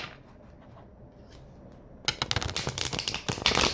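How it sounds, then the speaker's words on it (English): Tarot cards shuffled by hand at a reading: a short quiet lead-in, then a dense run of crisp, rapid card riffles and flicks that grows louder and busier toward the end. "One more shuffle."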